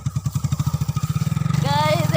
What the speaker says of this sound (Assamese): গাইজ এয়া পথাৰৰ মাজত ভাইটিয়ে বাইক চলাই দিছে